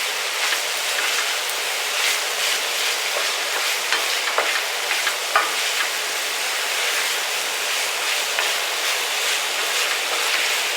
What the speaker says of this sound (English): Let's get this all mixed up and incorporated in.